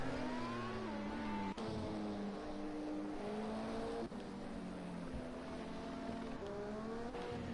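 LMP1 prototype race car crossing the finish line at Hockenheim during a European endurance championship round, a steady engine drone with gear-shift pitch steps and sliding tones, heard from a distance over constant background roar.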